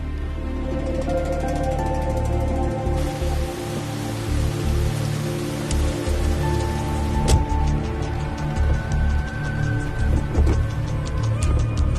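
Night rain falls steadily in a film scene, a dense, even hiss of drops that carries on throughout, layered with a low rumble and sustained tonal hum.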